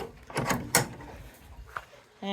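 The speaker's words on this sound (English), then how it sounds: "Close the doors and lock them up." Barn doors clatter and bang shut, with several knocks and sliding scrapes followed by a latch click, set against a soft background of indoor rustle and a brief voice at the end.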